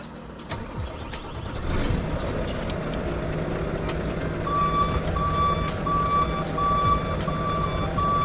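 Repeated reversing beeps from a truck stuck in sand as it is being pulled out, steady and fairly close over a continuous engine rumble.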